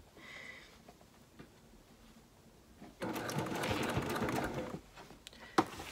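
A sewing machine stitches a toiletry bag, running in a steady loud whirring burst for a couple of seconds after quieter handling noise, then stopping with a small click.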